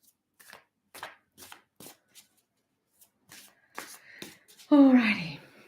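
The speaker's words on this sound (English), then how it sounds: "I'm going to stop shuffling" Trading cards being shuffled by hand: a handful of short, dry riffling bursts spaced across the clip, ending in a louder burst that has a voice over it, all close to the microphone.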